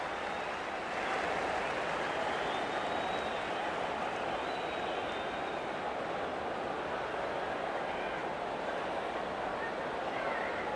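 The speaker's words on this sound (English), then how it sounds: "The crowd goes up with a kick-off." A stadium crowd roars loudly at kick-off in an NRL rugby league video game between the Broncos and Panthers, forming a dense, steady wash of cheering that holds throughout.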